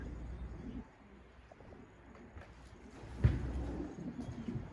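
Pigeons at a pigeon coffee house in Gaziantep coo softly in the background amid quiet room ambience, with a brief louder thump partway through.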